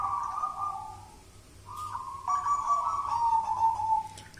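A zebra dove (perkutut) coos nearby: a short tonal phrase, a pause, then a longer wavering, descending coo lasting a couple of seconds, clear over a quiet background.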